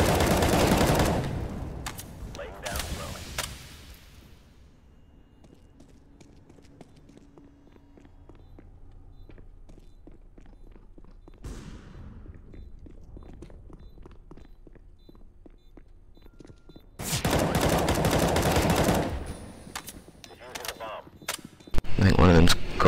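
Gunfire bursts in Counter-Strike: Global Offensive on the Nuke map during competitive play, loud clusters of rapid shots at the start and near the end with quieter footsteps and game sounds between.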